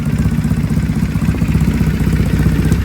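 A custom 2008 carbureted Triumph cafe racer motorcycle idles with a steady, loud, close low rumble and faint mechanical clatter throughout.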